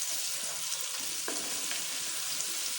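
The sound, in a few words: garlic paste frying with onions in a pan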